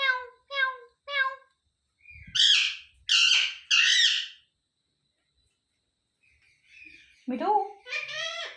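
A pet parrot calls up close: three short, bright, harmonic notes, then three loud, harsh squawks, and after a pause a rising, swooping cry followed by another rasping squawk, with silence between bursts.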